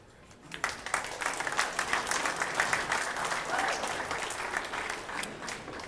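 An audience at a pool tournament final breaks into applause, many hands clapping in a dense, sustained wave that swells and then slowly eases.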